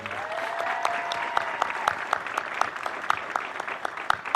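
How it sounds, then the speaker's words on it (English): An audience at a military change of responsibility ceremony applauds steadily, with sharp individual claps standing out at a fairly regular pace above the dense wash of clapping. "please give them a round of applause for me"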